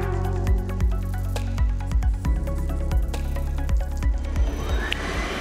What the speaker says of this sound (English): I wonder what happens if I press this button. I bet the water will splash around wildly.